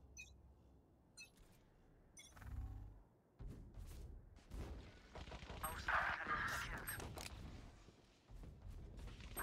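Video game gunfire crackles in scattered bursts and single shots, some near and sharp and others more distant, mixed with game effects while a player's voice talks over it.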